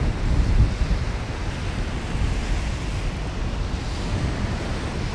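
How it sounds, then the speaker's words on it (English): Steady, roaring wind buffets the microphone outdoors at the beach in the Rockaways, New York City, with a constant broadband rush and the low wash of surf underneath, no voices. "It's a bit windy out here."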